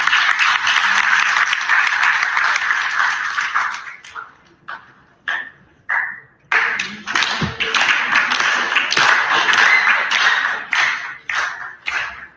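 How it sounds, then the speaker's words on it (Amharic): Audience at an Ethiopian memorial celebration marking the 50th anniversary of the EPRA claps loudly and steadily, with a short thinning of the applause midway before it swells again into sustained clapping. "ወደ መድረኩ አጨብጭቡልኝ።"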